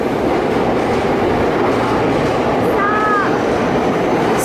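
A train pulls into a station in Japan, its broad rumble filling the space loudly and continuously, with a brief squeal of wheels partway through and no voices.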